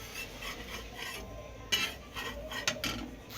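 A pancake flipped in a pan, heard as soft scraping and rubbing of a spatula against the pan, then a sharp clack and a few lighter knocks near the end, close and fairly quiet with no talk.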